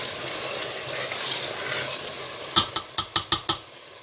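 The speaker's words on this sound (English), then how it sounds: "Make sure you're frying with just oil, not the water." English spinach and potatoes sizzle steadily in oil in a pan, with a hiss that runs throughout. A run of five or six sharp, close clinks from a utensil striking the pan comes near the end.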